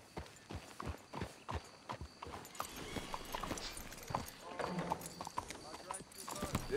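Steady clip-clop of horse hooves trotting nearby in the video game Red Dead Redemption 2, with people talking over it and an occasional snort from the animals.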